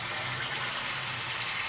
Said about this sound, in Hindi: 4 गिलास हम पानी डालेंगे।